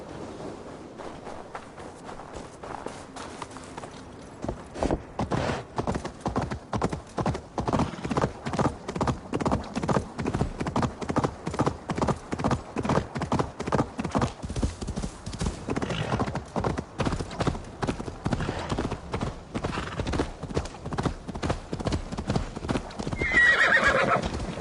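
Horse hooves clip-clop at a steady galloping rhythm, close and loud, with whinnies breaking through, in the Viking Age Discovery Tour game; a louder neigh near the end.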